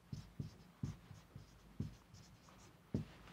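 Marker or chalk writing on a classroom board, with soft taps and short strokes spaced irregularly, faint and close with a quiet room behind.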